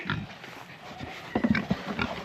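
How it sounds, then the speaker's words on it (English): Lufa, a pet pig on a farm, gives a quick cluster of soft, close grunts and oinks in the latter half, with quieter snuffling around them. "Lufa pig, you ready for your food?"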